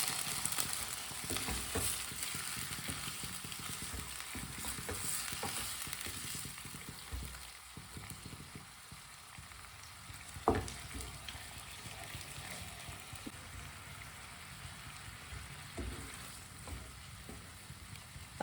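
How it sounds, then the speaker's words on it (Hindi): Ground ginger is stirred in a hot pan, a soft sizzle with scraping spoon strokes and occasional taps, fairly quiet and close, growing fainter after the first few seconds. "अदरक को अच्छी तरह मिक्स कर लेंगे"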